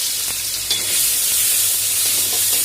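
Ground paste sizzles loudly in hot oil after the mustard seeds splutter, part of making keema paratha, with a continuous close-up frying hiss and stirring and no talking.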